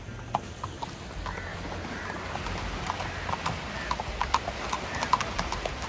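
Horse hooves clip-clop in an irregular stream of sharp, fairly close knocks during a morning ride on a gelded horse at a ranch, over a low steady background.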